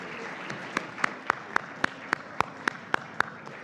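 Banquet audience applauding award winners, though the sound is a single pair of hands clapping about a dozen sharp, evenly spaced times over a quiet room.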